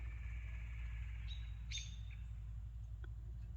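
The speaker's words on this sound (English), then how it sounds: "We can come over here and listen to these birds." A few short bird chirps and tweets sound at a moderate distance over a steady low outdoor rumble.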